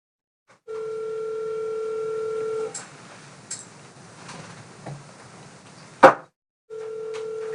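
Telephone line sounds on a call: a steady dial tone, then a few brief tones and clicks, a sharp click, and the tone returning near the end, with no talking.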